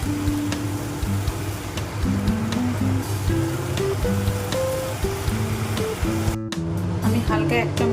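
Mushrooms stirred and cooking in a pan, releasing lots of water, giving a continuous wet hiss and sizzle under soft background music, with clattering stirring near the end.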